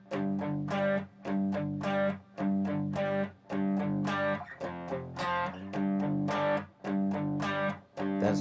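Distorted electric guitar playing a riff, chunky power-chord stabs in repeated phrases with short gaps between, loud and alone without talk.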